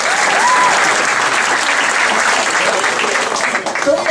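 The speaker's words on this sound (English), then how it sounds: "How about a round of applause for your waitresses?" Comedy club crowd applauds the waitresses during a stand-up set, a loud, full burst of clapping that holds steady and starts to thin out near the end, with faint voices underneath.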